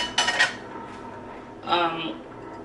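A metal saucepan is handled on the stove while breakfast is cooked before pork sausage is browned in it, giving two short clattering clanks of pan and utensil close by.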